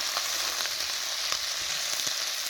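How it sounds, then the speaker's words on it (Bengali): Paneer fries in oil over a stove, a close, steady, hissing sizzle with faint crackles and no voices. "পনিরটা এখন ভেজে নিচ্ছি তেলের উপরে ভেজে নিচ্ছি"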